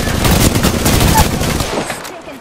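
Rapid gunfire fills an Apex Legends firefight, with dense, loud overlapping shots rattling continuously before easing off toward the end, and no clear talk.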